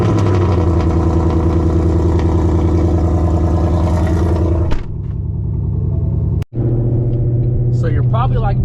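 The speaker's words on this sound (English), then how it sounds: "This car is so loud, I'm scared to cold start it" An S550 Mustang GT V8 engine roars steadily on a cold start, then cuts sharply, pauses, and settles into a deep rumbling idle close by.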